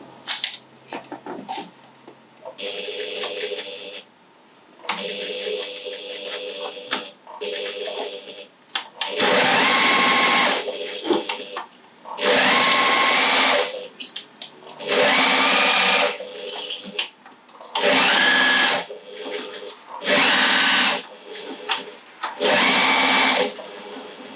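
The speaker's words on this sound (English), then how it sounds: "And just sew along at that 1 centimetre 3/8 seam allowance." A sewing machine stitches a seam on a cotton tote bag in repeated bursts of fast, loud, close whirring and rattling, with short pauses and quiet handling between runs.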